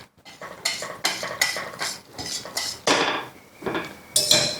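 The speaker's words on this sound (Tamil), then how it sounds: "வேக வச்சுக்கிட்டு இருக்கேன், கிளறிக்கிட்டு இருக்கேன்" A spoon scrapes and clanks against a pan while upma is stirred, making rhythmic metallic strokes about once or twice a second, close and moderately loud, with a faint sizzle underneath.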